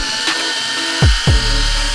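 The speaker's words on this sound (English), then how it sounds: "So now we're gonna drill mix it really quick one more time" A power drill used to mix epoxy for a tile countertop whirs steadily and loudly up close, with a couple of sharp speed changes as the trigger is squeezed.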